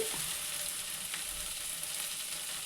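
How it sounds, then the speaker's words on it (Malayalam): Dosa batter fries on a hot pan with a continuous bright sizzle, steady and close throughout, with a faint scrape partway through. "നമുക്ക് ദോശ ചൂടാട്ടോ."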